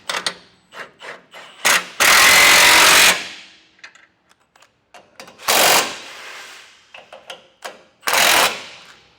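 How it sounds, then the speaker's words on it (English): A ratcheting wrench tightens 19 mm bolts on a Roadmaster crossbar-style base plate, giving short clicking runs broken by several loud, harsh bursts of a power tool, close up and with no talk. "we can re-tighten down our two bottom bolts and also tighten down that long bolt"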